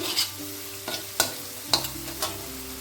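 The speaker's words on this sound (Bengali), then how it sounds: "রসুন আর আদার সঙ্গে এখানে দিয়ে দিচ্ছি হাফ চামচের কম একটু লবণ লবণটা দিয়ে আর একটু নেড়ে ভেজে নিচ্ছি" Garlic and ginger with a little salt are stir-fried in a pan for mixed fried rice. A spatula scrapes and clacks at uneven intervals over a low, steady sizzle, heard up close.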